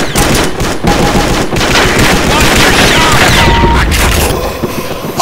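AK-47 gunfire in a zombie video game, loud rapid automatic bursts close up with booming impacts, brief gaps between volleys and a final short burst.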